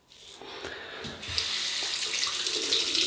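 Tap water runs into a sink as soapy hands are rinsed during a wet shave with a chrome Edwin Jagger DE89 safety razor; a steady close stream swells louder midway and continues alone.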